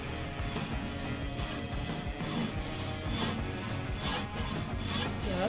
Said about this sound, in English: Just let the saw do the work.